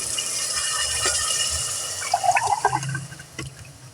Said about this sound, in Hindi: चिकन अच्छे से फ्राई हो चुका है, हम डालेंगे पानी।